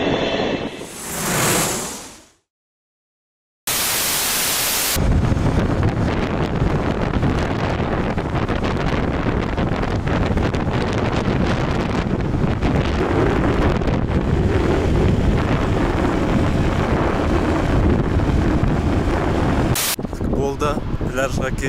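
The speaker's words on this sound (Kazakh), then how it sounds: "Жел, жел!" Strong wind on a beach near an airport, roaring loudly and steadily into the microphone with heavy buffeting for most of the stretch, after a brief gust and a moment of silence at the start.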